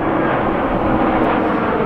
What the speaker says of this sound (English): I don't know if you can see the plane right here coming in over the top of me.